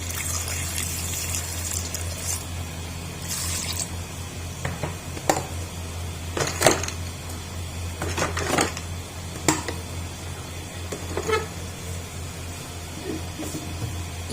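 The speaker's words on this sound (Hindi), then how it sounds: "पानी ऐड करेंगे 2 गिलास" Two glasses of water poured into a cooking pot of liver with salt, red chilli and turmeric, a soft continuous splash with a few sharper knocks and clinks, no speech.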